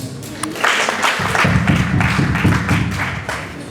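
A group bursts into applause for a film cast and crew in Burundi: dense, rapid hand clapping swells in after a brief pause and carries on steadily, close and loud.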